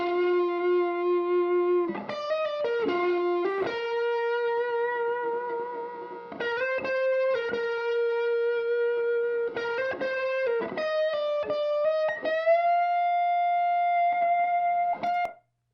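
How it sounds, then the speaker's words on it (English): Dry, unprocessed electric guitar signal played back during a reamp recording session: sustained melodic notes with slides and bends, a few quick note runs between long held tones, loud and close with no voices. "So now we're going to listen to the dry signal while I record the reamp returns."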